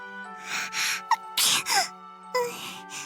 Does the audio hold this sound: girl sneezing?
yes